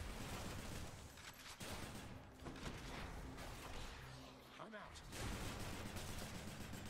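A rocket bomb fires in the video game Hades amid a barrage of rapid, gunfire-like combat effects with mechanical clicks. The game audio is dense and continuous, and a voice talks faintly over it.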